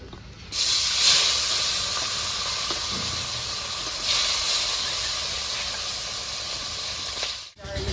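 Catla fish hisses in hot oil, a sudden loud sizzle that starts abruptly and stays steady, swelling briefly midway before cutting off near the end.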